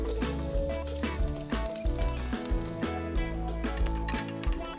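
Garlic and onion sautéing in a pan for pork afritada, a close steady sizzle with a rhythmic pattern of stirring over it.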